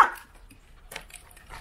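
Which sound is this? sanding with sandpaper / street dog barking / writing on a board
street dog barking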